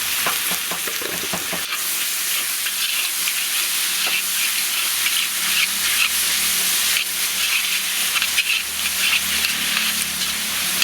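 Onions, green chillies and tomatoes sizzle and fry steadily in a pan for Kerala-style chicken mappas, a loud continuous hiss with a few utensil knocks near the start.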